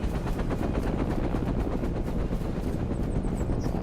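An enemy helicopter in the combat game ArmA thuds with a rapid, steady rotor chop, loud and constant, while brief bursts of gunfire crackle near the end.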